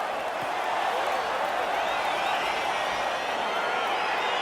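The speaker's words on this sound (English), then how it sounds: "crowd getting excited as this fight gets underway" A crowd in the EA Sports UFC 4 fighting game cheers as a fight gets underway, a dense, steady roar of arena noise filling the whole stretch at an even, fairly loud level.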